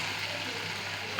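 Chopped green chillies and crisp fried onions keep frying in hot oil for a country chicken curry. A short, steady crackling sizzle ends in a sudden metallic scrape from a spoon.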